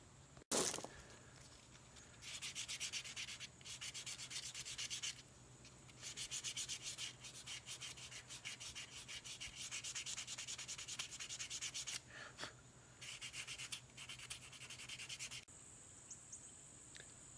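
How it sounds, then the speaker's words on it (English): Sandpaper rubs by hand against a wooden bushcraft knife handle in quick, rhythmic back-and-forth strokes, close and steady across several bursts with brief pauses. "then you can go back in with hand sandpaper and kind of final shape what you want before you oil and finish it"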